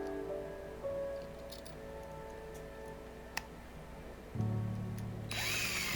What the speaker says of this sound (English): I'm driving the screws down